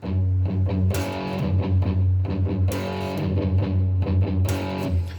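Palm-muted guitar strums in a slow galloping rhythm of a song, a deep bass note pulsing under choppy chords, loud and close.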